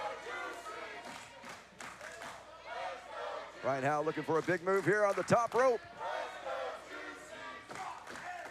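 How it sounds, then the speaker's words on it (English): Crowd at a professional wrestling event in Davis Arena cheers and roars for Kentucky Heavyweight Champion Luscious Lawrence, swelling into loud rhythmic bursts midway under continuous play-by-play commentary. "You hear the Juice Troop going wild here in Davis Arena, cheering on Luscious Lawrence"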